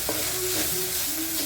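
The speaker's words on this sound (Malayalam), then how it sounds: "തേങ്ങ ഇട്ട് നന്നായിട്ടൊന്ന് മിക്സ് ചെയ്തിട്ട്" Grated coconut is stirred into long beans in a hot pan, giving a steady sizzle with soft scraping stir sounds close by and no talk.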